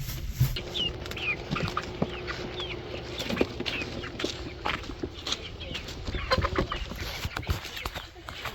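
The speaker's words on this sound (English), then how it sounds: "Let's see how our hens are doing." Hens clucking inside a chicken coop, scattered short clucks and chirps over a steady background hum, with someone talking intermittently and some thumps and shuffling nearby.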